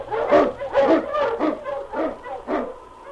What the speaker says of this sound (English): King, the swiftest, strongest of Eskimo lead dogs, blazes the trail through storm and snow